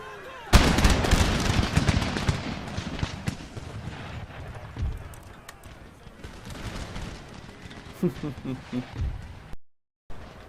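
Artillery in Empire: Total War fires explosive shells in a heavy, booming volley followed by a long rumbling decay and scattered crackling blasts, with a voice speaking briefly near the end.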